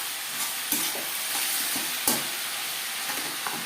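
Onions frying in oil crackle in a steady close sizzle, broken by a few distinct scraping stirs and clinks of a spoon against the pan; no one speaks.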